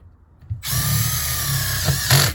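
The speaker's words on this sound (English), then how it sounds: "we're going to secure this plate to that return plenum with these supplied screws" A power drill drives supplied screws into a metal HVAC return plenum, a loud close whirring burst starting abruptly after a quiet moment, running steadily for under two seconds and then revving briefly again.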